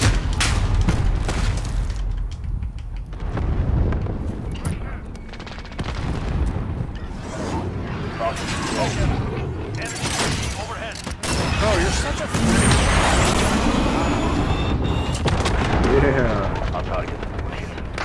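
Cluster strike explosions in Call of Duty Modern Warfare, a continuous loud barrage of booming blasts and rumbling detonations that overlap for the whole stretch, with players talking over the game sound.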